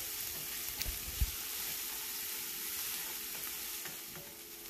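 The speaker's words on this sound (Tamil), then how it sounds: "வெங்காயத்தை சேர்த்ததுக்கப்புறமா ஒரு 5-6 நிமிஷம் வரைக்கும் வதக்கினா போதும்." Onions sautéing in a pan, a steady soft sizzle with occasional stirring scrapes, heard close and alone.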